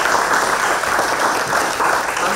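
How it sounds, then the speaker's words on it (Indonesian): Steady, loud applause from an audience honoring participants at a lecture event, continuous dense clapping throughout with no pauses. "Tepuk tangan dulu dong untuk peserta ini"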